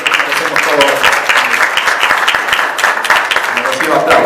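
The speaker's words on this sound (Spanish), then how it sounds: "Voy a pedir un aplauso para todos por el aniversario de los 10 años de la cumbre." A crowd applauds loudly and steadily at a political communication summit, dense clapping filling the room with voices mixed underneath.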